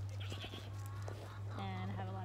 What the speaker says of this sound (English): These are some of my goats.